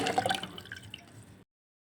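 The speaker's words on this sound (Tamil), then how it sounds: "இப்போ தண்ணியை சேர்த்துட்றேன் பருப்பு தண்ணியை" Water poured into a pot of mashed lentils (dal) while making sambar, a short close liquid splash and trickle that tapers off after about a second and a half, with no talk.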